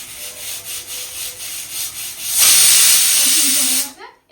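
A pressure cooker on a gas stove, cooking goat meat, lets off a loud sustained steam whistle for about a second and a half, following quieter hissing and faint rhythmic sounds from the pot.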